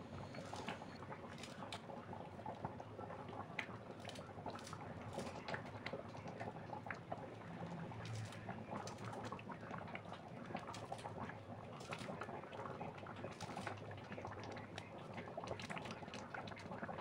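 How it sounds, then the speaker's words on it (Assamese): A pot of dal with greens boils steadily, its continuous soft bubbling and patter quiet but unbroken throughout. "এইফালে পূৰা বক বককৈ উতলি আছে"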